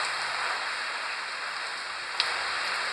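Light rain falling on the Kavaklı shore at Gölcük, a steady soft hiss of drops without a break, with one brief sharp tick near the end and no talking.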